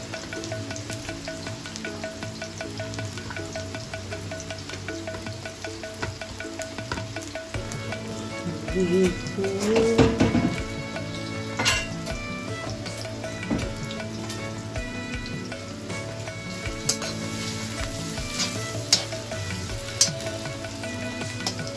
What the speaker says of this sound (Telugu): మళ్ళీ ఇదే పెద్ద కళాయిలో బిర్యానీ చేస్తాం కదా, దాంట్లో ఆయిల్ వేసుకున్నాము. దాంట్లోనే గోల్డెన్ ఆనియన్స్ వేయించుకుంటాము.